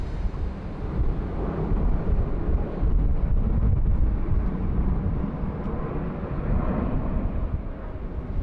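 An airliner touches down on the runway at Bangkok airport, a broad, rumbling roar of engines and rushing air heard from a distance, steady and wind-buffeted with no one talking.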